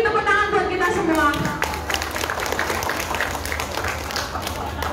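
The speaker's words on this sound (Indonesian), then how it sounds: "Sekali lagi tepuk tangan buat kita semua." After a brief stretch of speech, an audience bursts into applause at the 8th congress of a Hong Kong migrant domestic workers' group, a steady wash of clapping that continues under the room noise.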